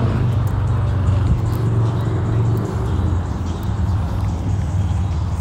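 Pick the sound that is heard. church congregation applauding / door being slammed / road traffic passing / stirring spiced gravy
road traffic passing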